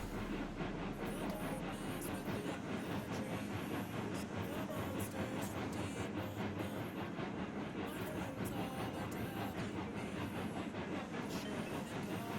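A Mason Bogie steam locomotive in Railroads Online rolls along steadily, its railcars giving a continuous rumbling clickety-clack of wheels on track, loud and unbroken with no talk.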